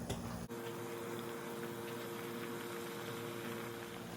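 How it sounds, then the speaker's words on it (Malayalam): Masala chai with two crushed cloves and cinnamon simmering on a stove, giving a steady, low bubbling hiss with a faint hum, close and continuous after a brief opening clatter. "നന്നായി തിളച്ചിട്ടുണ്ട്."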